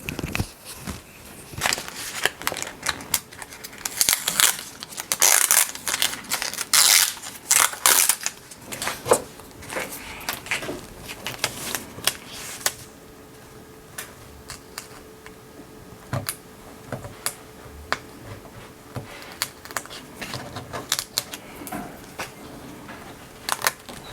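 Infusible ink sheet cut on a Cricut is peeled and weeded by hand at a table, giving a steady run of close, soft crackles, ticks and scratchy rustles that are busier at first and quieter later, with no talking.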